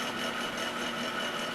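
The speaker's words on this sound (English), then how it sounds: "it has a dehumidifier going, so that is the background noise you're hearing" A dehumidifier runs in a borrowed woodworking workshop, giving a steady, even broadband whir that stays constant throughout at low volume with no voices.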